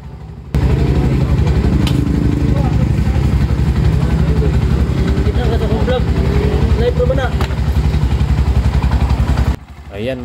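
Bajaj RE three-wheeler engine idling steadily after a throttle body cleaning, a loud continuous low chugging that holds without stalling, with someone talking faintly over it.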